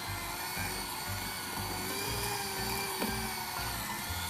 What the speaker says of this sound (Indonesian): Nah, kemudian ini saya mixer